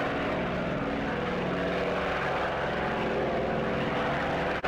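A Boeing B-17 Flying Fortress in a flight simulator drones with a continuous, loud multi-engine propeller hum that stays steady and close for the whole stretch, with no voices.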